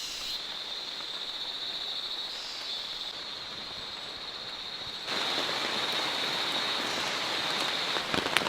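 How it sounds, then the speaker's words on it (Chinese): Rain falls steadily in a Borneo rainforest, a dense continuous hiss of drops on leaves that grows noticeably heavier partway through, with no voices. "又开始下雨了，天天下"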